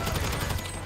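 Rapid gunfire from a shootout in Grand Theft Auto 5 on PS5, a dense burst of overlapping shots rattling loud and close for under a second.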